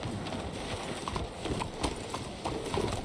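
Horse hooves clip-clopping at a steady trot in the game Red Dead Redemption 2, a rhythmic close series of hoofbeats over a low rumbling background.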